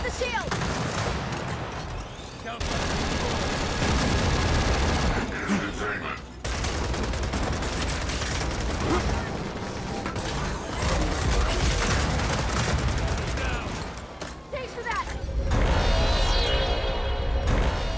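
Sustained automatic gunfire and bursts of shooting at a shield in the Gears of War 4 campaign, loud and nearly continuous with brief pauses, mixed with game effects and voices talking over the action.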